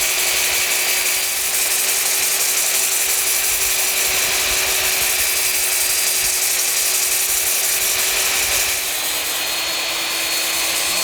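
A wooden platter is sanded by hand with sandpaper, from coarse to fine grit, giving a continuous loud, even scratchy hiss with no pauses and no voices.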